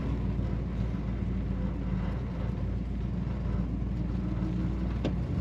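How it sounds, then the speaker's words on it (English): Steady low exhaust rumble from a 1955 Dodge Coronet two-door sedan idling, continuous and even, with a faint click near the end. "This car has a very cool exhaust sound."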